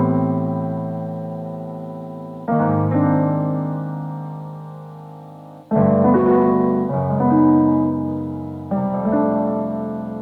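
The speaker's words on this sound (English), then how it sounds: "I played in some chords that fit the melody with this Cuban piano by Native Instruments" Cuban piano chords from a Native Instruments sample library, recorded to a tape machine and played back at half speed, with EQ, compression and small room reverb: four slow, sustained chords, each struck and left to decay, warm and mellow.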